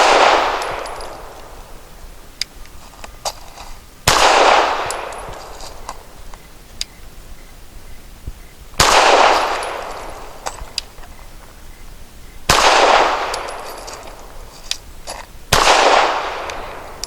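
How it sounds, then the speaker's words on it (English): A Taurus G3 pistol fires five sharp, loud reports with Nosler Match 147 grain ammunition at a 7-yard range, each shot standing apart with a decaying ring, spaced a few seconds apart at an uneven pace. "For my 5 shots from 7 yards, also using the Nosler Match 147 grain"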